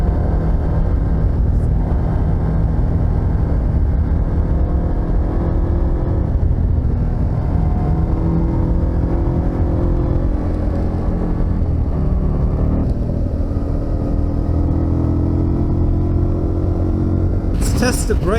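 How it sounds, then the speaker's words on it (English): A 2021 KTM 890 Adventure motorcycle engine drones steadily while riding, a continuous low rumble with wind noise throughout and a brief sharp sound near the end. "I like to get some acoustic feedback from the engine"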